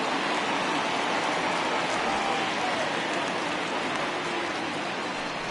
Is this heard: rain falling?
yes